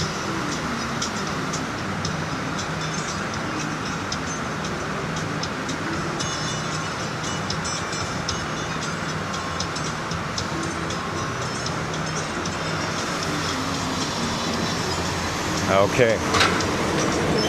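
A Disney World monorail train passes near Disney's Contemporary Resort with a sustained rumbling whoosh under steady ambient noise, and a voice speaks briefly.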